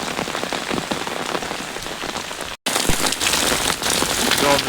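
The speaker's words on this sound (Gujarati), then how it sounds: "જો મિત્રો, આવો સરસ વરસાદ છે આજે." Heavy monsoon rain drumming on surfaces nearby, a loud, continuous dense patter with a brief cut partway through, then resuming as strong as before.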